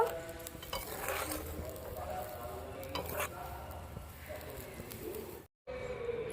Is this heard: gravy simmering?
yes